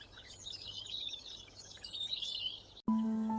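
A small bird in a park twitters in quick, high, fairly faint chirps over soft outdoor background noise. The chirping cuts off abruptly into a steady electronic tone.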